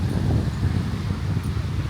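Low, gusty rumble of wind buffeting outdoors, steady and close, with faint rustling on top.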